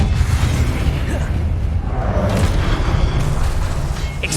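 Confringo spell explosions in the Hogwarts Legacy video game, a dense run of deep booming blasts and bursts overlapping continuously, loud and close with no break.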